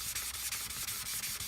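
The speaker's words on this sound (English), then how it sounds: "This paper is made for wet sanding." Wet sanding flattens a sharpening stone on abrasive paper made for wet use, heard as a close, steady, hissing scrub that repeats in quick back-and-forth strokes about every fifth of a second.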